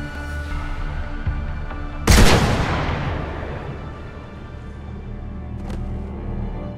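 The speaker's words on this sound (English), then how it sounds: "Shep shooting him in the stomach in a cutscene" A single loud, sharp gunshot cracks out in a Mass Effect cutscene, ringing off into a fading tail over low background music, with no voices.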